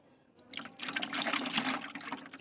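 Water from soaked potato peels is poured through a strainer in a short, close splashing trickle that starts after a brief pause.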